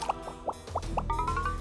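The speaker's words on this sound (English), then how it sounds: "Pour in some water." Water is poured into a glass jar for a craft project, first as a series of quick drips and plops, then as a steady, rising trickle of filling liquid close by.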